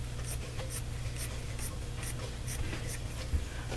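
Scissors cut fabric for a journal cover in a rapid, even series of crisp snips, about a dozen close strokes over a low steady background hum.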